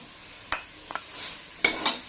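Mint, coriander and fenugreek leaves get stirred into a sizzling biryani masala in a pan, a few distinct scraping strokes of the spoon sounding close over a soft, steady hiss.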